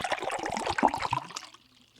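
Cold or hot water poured in a steady, close stream for about a second and a half, then stopping and leaving a faint tail.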